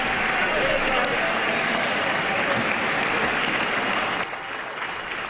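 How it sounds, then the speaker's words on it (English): Sustained applause from House members on the floor during a session, a dense, steady patter of clapping that carries on for several seconds and then drops to a lower level near the end. "I appreciate the applause of my colleagues on the other side"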